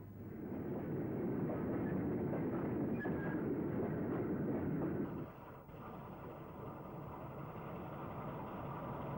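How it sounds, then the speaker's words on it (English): A freight train hauled by a BR Class 4 steam locomotive, number 75029, at Hockley, heard as a steady rumbling roar from an archive recording that drops to a quieter continuous rumble partway through. "This freight at Hockley is seen behind BR Class 4 460 number 75029."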